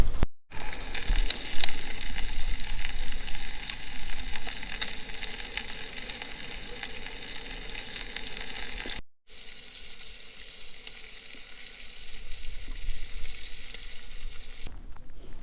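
A chop and asparagus frying in a pan at a wild campsite, a loud, steady sizzle filling the whole stretch, briefly cut off once and then carrying on with stirring.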